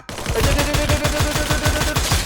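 Sustained automatic gunfire from a gun in the Free Fire video game, a rapid loud burst of evenly spaced shots roughly eight per second that runs unbroken for over two seconds, close and alone.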